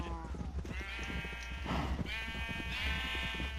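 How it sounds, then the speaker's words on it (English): Sheep in the video game Minecraft bleat in several wavering, nasal calls one after another, fairly clear over a low background hum. "I think I created a light gray sheep because I have a gray and a white."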